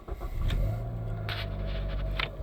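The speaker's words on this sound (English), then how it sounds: "let's go ahead and crank it up." A 2013–2016 Dodge Dart engine cranks briefly and catches, settling into a close, steady idle rumble, with a few small clicks from the cabin.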